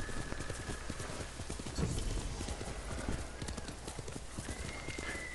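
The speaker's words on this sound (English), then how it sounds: "horses can run for a long period of time" Rapid hoofbeats clip-clop in a steady galloping rhythm from a horse in Ghost of Tsushima, with a brief whinny and a faint voice over the top.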